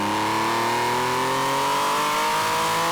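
A Porsche GT3 RS with a lightweight flywheel and cable throttle accelerates hard in second gear, its engine note climbing steadily in pitch. The sound is loud, close and continuous.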